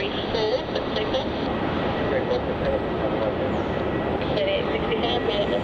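A jet aircraft taking off from runway 34 at Melbourne Airport, heard as a loud, steady broadband engine roar that holds throughout, with no pauses.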